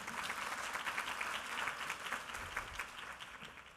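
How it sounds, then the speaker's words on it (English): Sustained audience applause fills the room at an educators' professional learning event, a dense, steady wash of clapping hands that stays loud and even throughout with no voices on top. "Give yourselves a round of applause."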